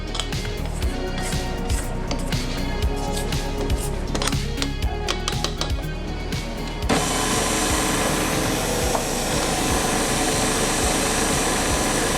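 An electric stand mixer kneads pizza crust dough, a steady close mechanical whir and rumble with rhythmic knocking in the first half, then a smoother, denser churn.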